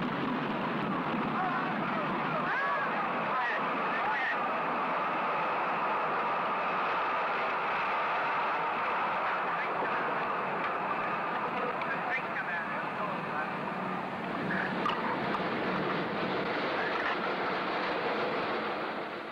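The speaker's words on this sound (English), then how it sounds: "The liftoff was a success." Lift-off of an early Space Race rocket produces a continuous, dense roaring rumble that holds steady for the whole stretch, with voices talking over it.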